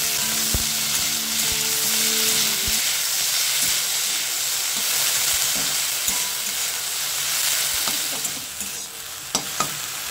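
Washed chukai fruit petals hit hot spiced oil in a wok with panch phoron and dried chilli, giving a steady loud sizzle and hiss of frying throughout, with a few soft clinks of stirring near the end.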